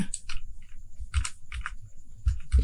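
Keys on a computer keyboard clack in short, uneven bursts as a password is typed, close and fairly crisp with brief pauses between groups of strokes.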